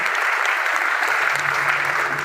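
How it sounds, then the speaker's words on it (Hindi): Loud, dense applause from an audience at a business seminar, a steady wash of clapping filling the whole moment with no speech over it. "ताली जोरदार बजाई।"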